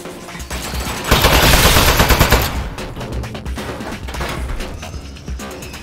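Turret gunfire in the video game Aperture Desk Job: a loud, rapid burst of automatic shots lasting about a second and a half, then a fading rattle and lingering mechanical noise.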